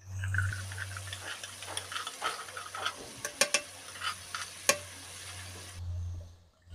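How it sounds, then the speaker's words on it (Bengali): Yogurt stirred and fried into a spice paste for a masala cauliflower dish, soft sizzling with irregular scrapes and clinks of a spoon against the pan, close up, the sound cutting off near the end. "এবারে আমি টক দই দিয়ে 2 মিনিট টক দইটাকে ভালোভাবে মশলার সাথে কষিয়ে নেব।"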